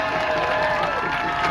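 A protest crowd at Foley Square by the Manhattan courthouse cheers and yells all at once, a dense, loud roar of voices that holds steady for a brief moment.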